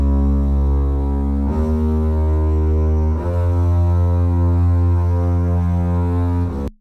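A deep, buzzing bass overdriven through a Green Screamer holds sustained low notes, shifting pitch twice, thick and gritty with a constant rumbling drone.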